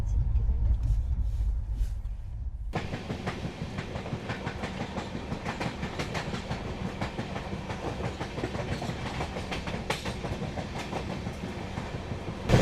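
Howrah–Chennai Mail express train running on rails in India, a steady loud rumble and rhythmic clatter of wheels over track joints; a quieter passage gives way abruptly to full running noise that continues throughout.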